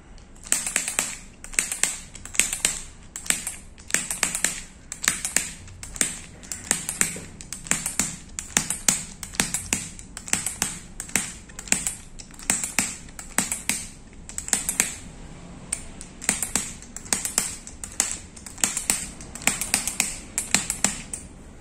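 Light rhythmic tapping on a man's lower back, a fast, even series of sharp close pats repeating steadily, with only a brief pause, and no talk.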